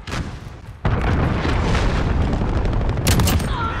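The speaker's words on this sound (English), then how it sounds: "Enemy cruise missile incoming." Heavy cruise missile explosion in Call of Duty Modern Warfare multiplayer: a sudden loud boom about a second in, then a sustained rumbling roar with a sharp burst near the end, up close and alone.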